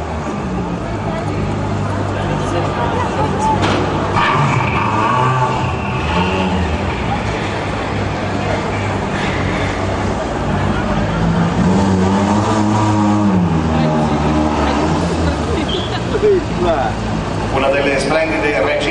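At the finish of the 2010 Rally città di Bassano in Bassano town centre, a rally car drives up to the podium. Its engine rumbles loud and near, revving a little, under continuous announcer talk and crowd noise.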